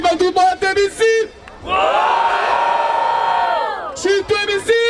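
Loud crowd at a freestyle rap battle final in São Paulo roars and cheers for about two and a half seconds in the middle, with an MC's amplified shouting before and after.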